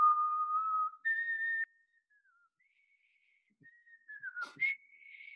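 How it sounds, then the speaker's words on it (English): A person whistles a short melody with vibrato, clear and fairly airy, held notes gliding between pitches, a pause, then a quicker run of notes with a few breathy accents, close and alone without talk. "Can we hear a whistle now?"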